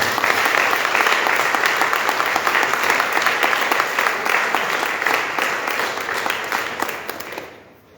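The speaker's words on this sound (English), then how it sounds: "they deserve the biggest round of applause for today" Dense audience applause fills the hall at a Saiva Siddhanta Sangam 85th anniversary gathering, steady and loud for most of its length before thinning out and fading near the end.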